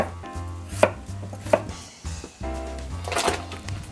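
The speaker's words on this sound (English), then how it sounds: "I am gonna cut them up though. I am gonna cut them up. I am using golden potatoes for this." Knife chopping through cooked golden potatoes on a board, with three sharp, close cuts about every 0.7 seconds and a busier run of cutting near the end, over a low hum.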